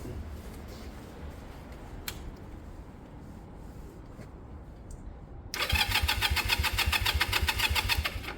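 A Sinnis Cruisestar motorcycle fitted with a new exhaust pipe cranks over and then catches at about five and a half seconds, settling into a loud, close, steady idle with a rapid ticking rhythm.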